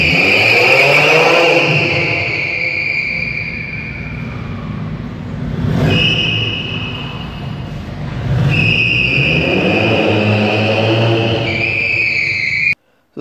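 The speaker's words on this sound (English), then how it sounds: "you guys can enjoy some of my indoor donut videos." A self-built car spins indoor donuts, its engine revving and falling in repeated surges while tires squeal and screech loudly on the floor, close and echoing, ending abruptly.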